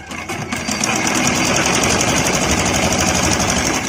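A sewing machine stitches along a strip on a baby frock, giving a loud, close, rapid mechanical whirr that runs steadily for several seconds.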